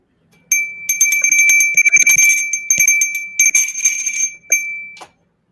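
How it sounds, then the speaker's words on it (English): A small bell rings rapidly in a bright, insistent metallic trill, sustained in bursts for several seconds with brief gaps, loud and close with no talking. "Ring that bell."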